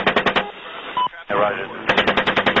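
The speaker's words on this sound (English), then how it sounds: "The very distinct fire of an Apache 30mm cannon." An Apache helicopter's 30mm cannon fires in rapid, evenly spaced bursts of heavy shots, with radio chatter cutting in between the volleys.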